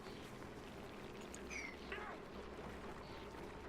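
Water pouring and trickling in the colony-building game Oxygen Not Included, a faint steady splashing flow with a few brief higher gurgles, alone without talk.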